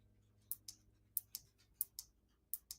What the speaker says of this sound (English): I hear clicking.